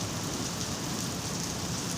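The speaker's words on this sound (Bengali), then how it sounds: "আজকে আবার বৃষ্টি" Steady rain pours down outdoors, a dense, even hiss of drops that fills the whole moment without pause, with no voices.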